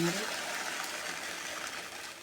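Water runs steadily from a tap while dishes are washed by hand, a constant broadband gush with a brief clatter at the start, close and moderately loud for a couple of seconds.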